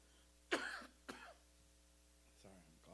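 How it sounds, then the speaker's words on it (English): A speaker at a church health seminar coughs a few times in a hall, with a strong burst followed by a second shorter one, then a softer cough-like sound, over faint room hum. "I'm coughing and I'm talking."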